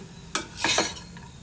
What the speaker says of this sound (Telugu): ఇలా కలుపుతూ నిదానంగా ఫ్రై చేసుకోవాలండి